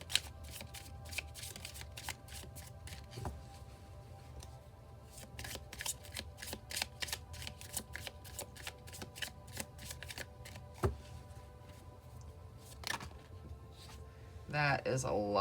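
A tarot deck is shuffled close up, giving a long run of quick, crisp riffling flicks in a steady fast rhythm with a low background hum.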